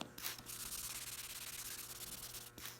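Steady 2000-grit sandpaper rubbing by hand over filled paint chips, a continuous soft hiss with slight back-and-forth pulsing, close and fairly quiet, no voices.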